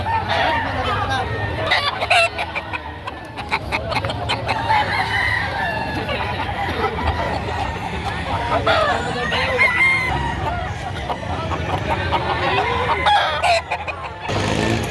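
Chickens cluck busily nearby while a rooster crows, with people talking in the background of a noisy outdoor chicken market in Padre Garcia, Batangas.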